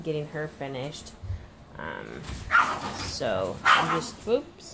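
A house dog barks in a few sharp yips and woofs indoors, close and loud, mixed with someone talking over it.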